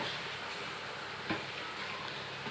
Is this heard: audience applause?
no